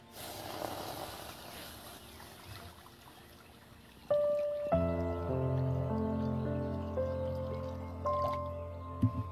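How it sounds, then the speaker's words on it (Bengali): Water pours into a wok at home, starting after a quiet stretch with a sudden splash, then a sustained filling gurgle with a second surge near the end, close and moderately loud. "কড়ার মধ্যে আমি জল দিয়ে দিচ্ছি।"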